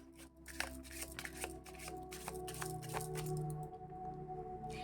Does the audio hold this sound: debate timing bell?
no